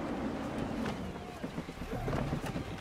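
Wind and a sailing ship at sea in Assassin's Creed 3, a steady, rushing gust with low creaks and water wash, continuous and fairly close, with a faint voice underneath.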